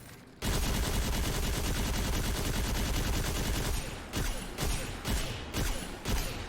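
Game weapon in Destiny 2 firing a dense burst of rapid shots, then a handful of separate pot shots spaced about half a second apart, loud and alone with no talk.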